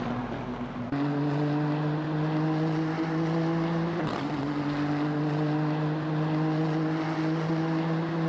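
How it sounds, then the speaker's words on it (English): GT3 race car engines roar in a video game race at Sepang, a steady loud drone with sustained tones that shift upward just after the start and wobble briefly midway, no talk over it. "Will Fumi use that engine to good effect?"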